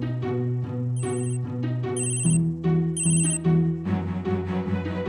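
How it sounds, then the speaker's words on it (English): A bright electronic chiming melody repeats in short bursts over a steady tune, loud and close, from a Tile Bluetooth item tracker ringing. "you can also activate a tile to ring so you can find it by sound."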